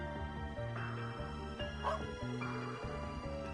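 A guard dog in a video game barks and yips in short bursts over steady game music, the calls fairly close and repeating across the moment.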